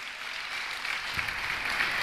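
A church congregation claps for Jesus during a sermon, a dense steady round of applause from a crowd, fairly close and continuous, with no speech over it.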